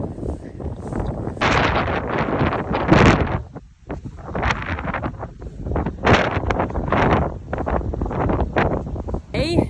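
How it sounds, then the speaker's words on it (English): Strong wind blows across a grass field where cows and calves are turned out, buffeting the microphone in loud gusty roars with brief lulls. "It's very windy."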